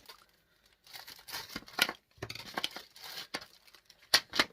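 A sealed plastic bag holding a USB cable being pulled and torn open by hand, close, irregular crinkling and crackling bursts with brief tearing rips and short pauses between.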